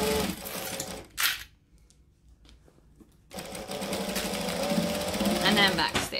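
A sewing machine stitching an apron and backstitching, running in close whirring bursts that stop briefly for a near-silent pause, then resume with a steady rattling hum.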